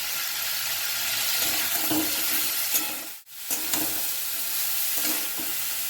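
Carrots, onions and grated ginger go into a hot pot for chicken soup, raising a steady broad sizzle that cuts out briefly midway, then resumes at the same level.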